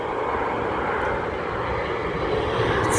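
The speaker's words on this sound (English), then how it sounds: "I think that's a United Embraer 175" A United Embraer 175 jet at Dulles airport gives a steady, loud engine roar that fills the whole span evenly, nearby and continuous, with no talking over it.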